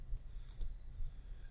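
A couple of quick plastic clicks from a graphing calculator button being pressed, faint and close, over a low hum.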